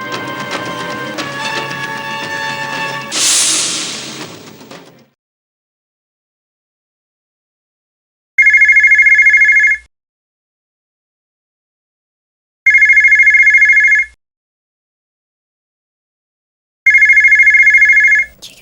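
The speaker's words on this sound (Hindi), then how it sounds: "ये किसका फोन है?" Three bursts of a telephone ringtone, each about a second and a half long and separated by silence, follow the fading end of dramatic background music in a Pakistani TV drama scene.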